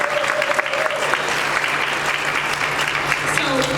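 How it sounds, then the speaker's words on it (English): Audience applause at a landscape design conference keynote honoring the planning committee, a steady dense wash of many hands clapping throughout, with a faint voice or tone briefly audible beneath. "I do think we need another round of applause for the group"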